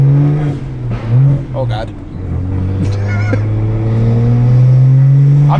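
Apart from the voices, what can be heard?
BMW E90 335i accelerating and shifting gears with new clutch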